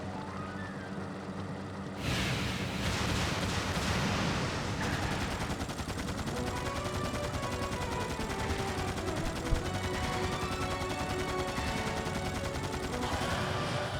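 Sustained machine gun fire from the Dark Cloud 2 video game, a dense continuous rattle of rapid shots that runs unbroken for about twelve seconds under layered game sounds and music.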